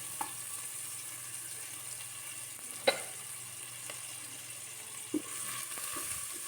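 Onions frying lightly in oil in a home kitchen pan give a low, steady sizzle that runs throughout, broken by a couple of sharp clicks and stirring knocks.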